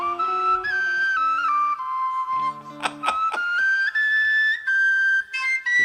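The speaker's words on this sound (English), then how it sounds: "Can you give us a little penny whistle?" A penny whistle plays a lively melodic tune at a concert, clear sustained notes with quick trills and runs, loud and close, accompanied by a few percussive hits, no voices.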